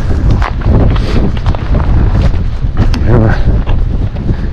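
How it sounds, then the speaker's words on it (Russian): Strong wind gusting across a frozen lake in winter, a loud continuous roar buffeting the microphone close up, with people talking over it. "Ветер прям сносит."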